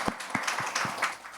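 An audience at a public event with speakers claps in a sparse round of applause. A few distinct, separated hand claps ring out over a low crowd murmur, fairly close and moderate in level.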